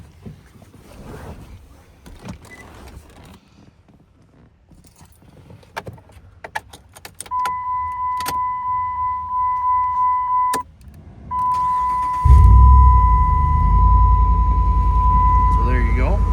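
A 2007 Ram 1500 pickup truck is started from inside the cab: a door-open chime tone sounds, the starter cranks, and the engine catches into a loud, steady low idle, with a person talking quietly beforehand.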